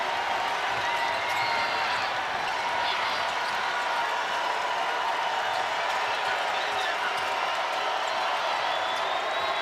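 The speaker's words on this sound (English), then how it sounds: "now the crowd trying to get into it at the Kennel again" A college basketball crowd at the Kennel during Gonzaga against San Diego State, a steady broad roar of fans building noise throughout, with a commentator talking over it.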